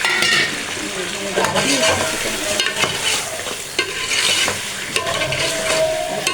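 Chicken meat fries in a pot for aloo chicken shorba, a steady close sizzle with repeated scraping stir strokes and utensil clatter; someone speaks briefly over it.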